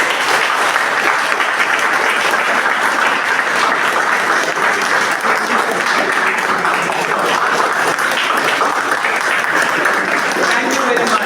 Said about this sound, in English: A big round of applause for me.